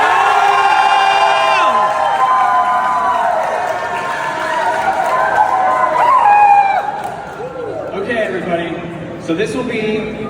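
Crowd at a live digital art battle semifinal in Los Angeles screams and cheers loudly for a team, sustained shouting and whooping for about ten seconds that dips briefly near the end before rising again.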